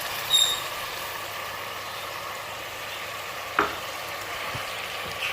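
Blended tomatoes frying in a pan for Pakistani-style chana masala: a soft, steady sizzle continues throughout, with a couple of brief clinks of a utensil.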